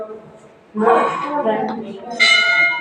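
A temple bell rings at the Baba Kalu Nath temple in Nathana. The clear, resonant tones are loudest near the end and sound mixed in with people talking close by.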